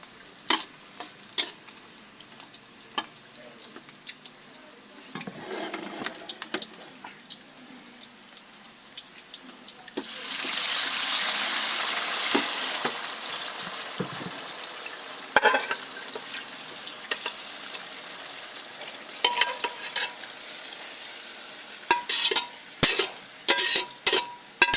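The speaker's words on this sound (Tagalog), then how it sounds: "Pwede na natin ilagay ang ating sinangkot siyang karne." Meat stir-fried in a hot pan gives a steady sizzle that swells loud midway, with scraping stir strokes and clatter near and alone.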